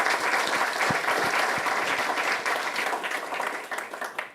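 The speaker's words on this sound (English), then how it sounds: "can I please have a massive round of applause for Mark Milner?" A lecture audience at the National Army Museum gives a round of applause for speaker Mark Milner, steady dense clapping that gradually thins and fades toward the end.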